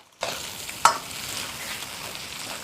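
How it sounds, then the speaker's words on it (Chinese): Pork stir-frying in a wok with ginger, scallion, garlic and fermented black beans: a steady close sizzle begins abruptly, then one sharp clack of a spatula against the pan, and the frying hiss carries on alone. "猪肉炒香，炒出油脂过后，姜、葱、蒜、豆豉，"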